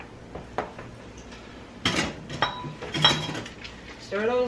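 Vegetables get stirred in a pan for Chinese takeout-style cooking, with a few sharp clinks and scrapes of a utensil against the pan over a low background hiss.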